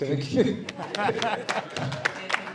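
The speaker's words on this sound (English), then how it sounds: "Round of applause." Applause from an audience at a press announcement and Q&A session, a short burst of scattered clapping with voices talking over it.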